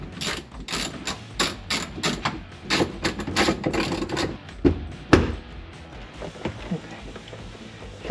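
Tool ratchets and clanks while loosening the steering column of a Fox body Mustang, a close series of quick rattling clicks and metallic knocks that thin out into quieter fiddling, with some voice underneath.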